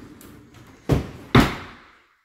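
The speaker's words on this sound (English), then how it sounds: "sliding doors for your clothes and stuff to go there" Sliding closet doors in a newly built house, two firm bumps about half a second apart as the panels slide and hit their stops, each ringing briefly in the empty room before silence.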